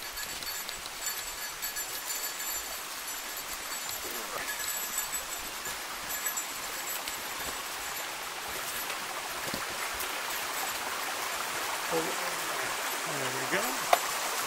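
A brook flows at a crossing on the West River Trail, making a steady, even rush of water that fills the whole stretch without a break.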